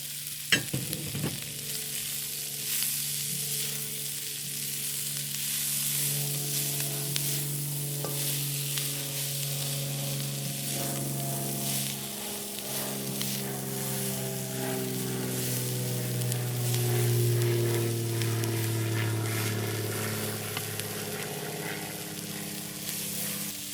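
Asparagus stir-frying with shrimp in a hot pan, a continuous loud crackling sizzle lasting the whole stretch, with a few stirring knocks early on and a low steady hum underneath, heard close with no voices.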